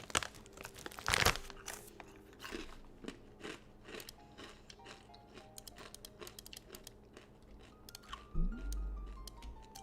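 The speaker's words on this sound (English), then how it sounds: "I'm munching on Takis" Someone munches Takis, the crunchy rolled snack chips, with crackling crunches and crinkles close to the mic, sharpest in one loud burst early on and then in scattered smaller bites over a low background of game sounds.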